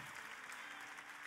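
Congregation applauding inside a church: a dense, steady wash of many hands clapping together, sustained and fairly distant, with no voices heard over it.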